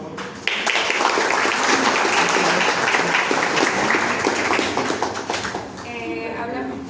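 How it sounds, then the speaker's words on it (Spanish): Applause in a lecture room during an internal medicine class, steady clapping that builds and holds, then thins out toward the end as a voice begins to speak. "Aplausos."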